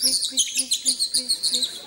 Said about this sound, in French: Ça, c'est le rouge-gorge.